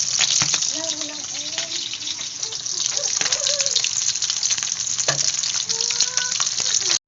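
A pot of vegetables and smoked fish (tinapa) comes to a boil, giving a continuous bubbling, sizzling hiss with occasional knocks and stirring sounds, while a person talks over it at times.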